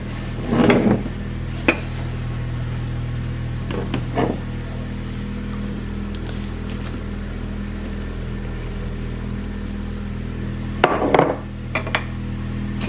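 A utensil clinks and scrapes against a pan while brown sugar is stirred into melted brownie mixture, a few brief metallic knocks over a steady stovetop hum.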